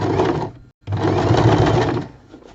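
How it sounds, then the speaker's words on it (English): A sewing machine fitted with a straight stitch foot runs in two quick bursts with a brief silent pause between, a close, even whirring hum that tapers off at the end. "I've put a straight stitch foot on here to tap all these little loops down"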